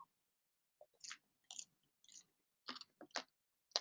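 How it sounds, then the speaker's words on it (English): Popcorn being chewed close to a microphone, a series of quiet crunchy bites and mouth sounds in irregular bursts with silence between them. "What you're hearing is that I just took a break to eat some popcorn."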